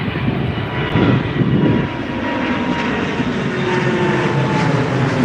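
An airliner taking off at Heathrow Airport, its engines roaring loud and steady from a moderate distance throughout, with no voices.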